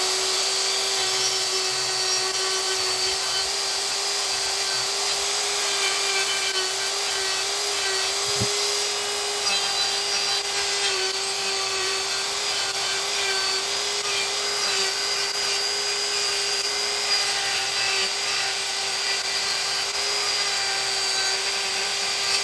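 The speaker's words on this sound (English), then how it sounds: "Sounds like I got a couple pieces of aluminum in my burr bit" A burr bit grinding aluminum while porting Chevrolet 799 cylinder heads in a home garage, giving a steady, loud, high-pitched whine that runs without pause throughout, with one brief tick near the middle.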